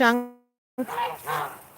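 A goose lets out a single loud, nasal honk near a new backyard pool, followed by someone talking close by.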